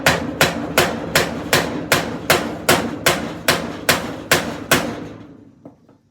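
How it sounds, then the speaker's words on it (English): A hammer pounds a car floor panel into its tapered shape against a bolted-down brace used as a dolly, about a dozen sharp, loud, evenly spaced blows, each ringing briefly, before the last strikes fade out. "So a little bit more pounding, and we'll have this doing the taper"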